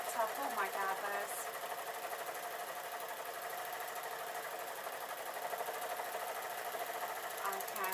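A sewing machine hums quietly and steadily while stitching suit trouser fabric, running continuously beneath a person talking.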